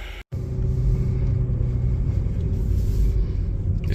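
A car's engine rumbles steadily and loudly at close range as it pulls away, a low continuous drone after a brief cut at the start, with no talking.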